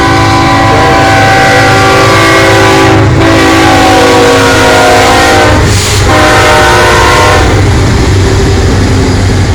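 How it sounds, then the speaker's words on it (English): A loud train horn blares in sustained blasts while a train rumbles past very close, steady and overpowering throughout. "Here comes the train. You hear them horns blowing."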